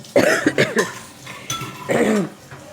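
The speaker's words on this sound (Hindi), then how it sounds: "सॉरी, मुझे खांसी जो है ना वो अभी भी हो रही है" A woman coughs three times in quick succession, then again after a brief pause, harsh and close, with no talk between the coughs.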